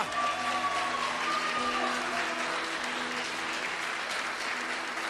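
A worship congregation claps for the Lord, a full, sustained round of applause from many people, with a faint sustained keyboard or organ tone and musical chords lingering beneath the clapping.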